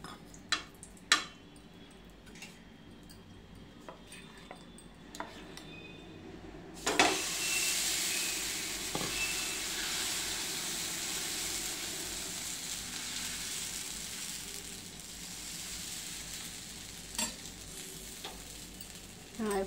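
A moong dal chilla cooks in a pan over high flame: after a few quiet clicks and taps, batter hits the hot surface with a sudden loud hiss that settles into a continuous close sizzle, broken by occasional scraping and tapping sounds.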